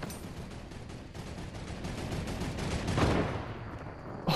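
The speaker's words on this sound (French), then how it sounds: "c'est qui tire de là-haut, là?" Rapid bursts of gunfire ring out from above in the Fortnite video game, a dense steady rattle of shots that swells around the middle and ends in a sharp crack.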